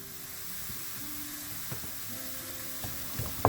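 Chili, turmeric, fenugreek and asafoetida powders sauté in oil for fish pickle, a quiet steady sizzle with faint scrapes and a few soft clicks toward the end.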